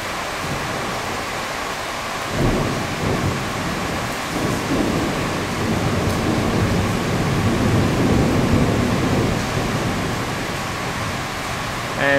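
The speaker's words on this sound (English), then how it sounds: "heavy rains and winds kicked in and pretty much had a complete washout day once again" Heavy rain and thunder lash a cruise ship at sea, the Quantum of the Seas, with dense steady downpour and deep rolling rumbles swelling through, loud and enveloping with no voices.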